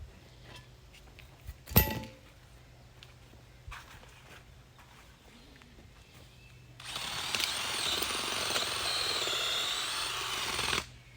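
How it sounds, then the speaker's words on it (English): Power auger boring into hard ground, starting after a few quiet seconds with scattered knocks, then grinding loudly and continuously at close range for about four seconds before it cuts off. "I'm going to show you that auger, because this spot right here is pretty hard"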